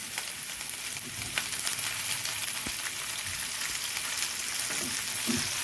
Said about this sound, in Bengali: এর মধ্যেই একে একে আমি টুকরো পেঁয়াজগুলো দিয়ে দেব। আর তারপরেই দিয়ে দেব টমেটো কুচি।